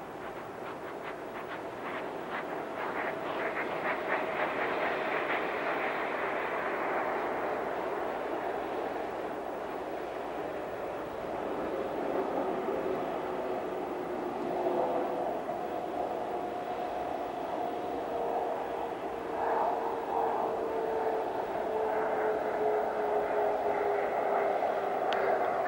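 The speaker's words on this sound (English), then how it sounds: "nose gear touchdown for Columbia as she rolls out on runway 17 left at Edwards Air Force" Space Shuttle Columbia rolling out on runway 17 left at Edwards Air Force Base after landing in 1989, heard as a steady, loud, broad rumble with faint tonal whines rising and shifting throughout.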